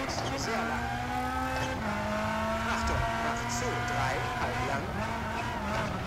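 A rally car engine held at full throttle in EA WRC 23, a loud, strained whine that climbs and dips with gear changes, with someone talking over it.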